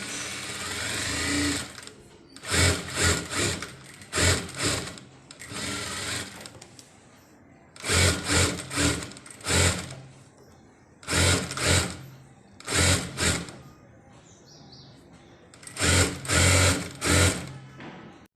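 Domestic sewing machine stitching the neckline of a blouse, running in repeated short bursts of rapid whirring stitches separated by brief pauses, close and clear with no talking.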